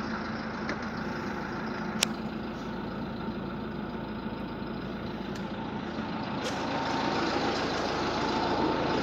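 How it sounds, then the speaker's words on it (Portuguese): Ford Ranger Power Stroke diesel engine idling, a steady low rumbling clatter heard from nearby, with a few faint sharp clicks and no talk over it. "Tá vendo aí o som do motor da Ranger Power Stroke?"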